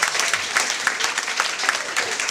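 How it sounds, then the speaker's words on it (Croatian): Audience applause at a student dormitory entertainment evening, many hands clapping in a lively, slightly uneven rhythm, moderately loud and filling the room, with no talk over it. "Aplauz!"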